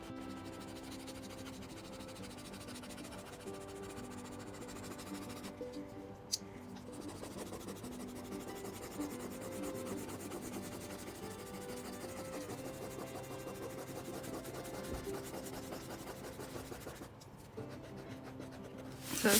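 An eraser rubs back and forth over marker ink on paper, a faint, steady scratchy scrubbing that runs without pause and is heard alone, close up.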